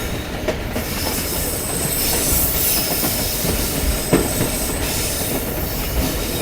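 A locomotive hauls a prisoner train toward Qila Abdullah near the Afghan–Pakistan border, giving a steady, loud rumble of rolling railcars with clattering wheels and occasional sharp clanks, heard nearby with no voices.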